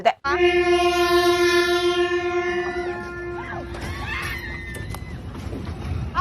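A moving train in Taiwan sounds a long, loud, steady horn blast of several seconds, then rumbles past close by with rising noise and scattered sharp sounds.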